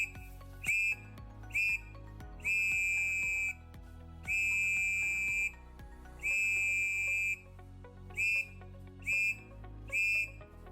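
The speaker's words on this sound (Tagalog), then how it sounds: "Pumito ng 3 maiksing tunog gamit ang iyong pito." A handheld whistle gives a series of shrill blasts as a distress signal, mixing short toots with longer held ones in a repeating pattern, loud and close against quiet background.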